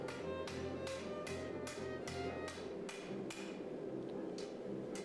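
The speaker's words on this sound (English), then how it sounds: "Initially I start working the bevels by hand, starting at the tip of the sword." Hand hammer striking a sword blade at the forge while drawing out the bevels from the tip, a steady run of about a dozen sharp ringing metallic blows at an even rhythm, close and loud with no talk.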